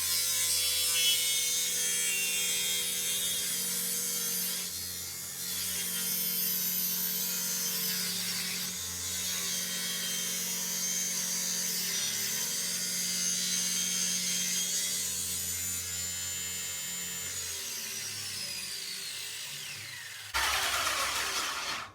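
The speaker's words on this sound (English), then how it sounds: "put it in the table saw, and run it." A table saw runs loud and steady with a high whine for about twenty seconds, cutting an angle in a workpiece held flat against a jig riding the fence, then cuts off abruptly near the end.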